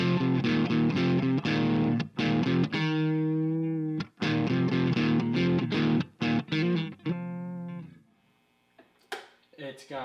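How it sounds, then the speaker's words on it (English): An electric guitar played through an Ibanez Tone Blaster amp on its overdrive setting rings out loud and close, with strummed chords and sustained distorted notes, then fades to quiet with a few faint picked notes at the end. "And then this is the overdrive setting on."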